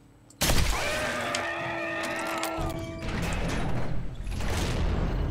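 Gunfire in the zombie survival game 7 Days to Die blows off an enemy's head: a sudden loud blast, then a wavering tonal cry over a steady rumbling background, with no talking.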